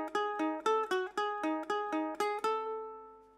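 Ukulele picks out the fourth section of the Loki opening theme, about ten clear plucked notes in an even rhythm, close and alone, with the final note ringing out and fading.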